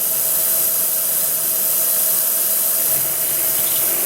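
A milling machine running a half-inch end mill at about 600 RPM: a steady, loud, even whir and hiss with a faint constant tone running through it, unbroken from start to finish and heard alone without talk.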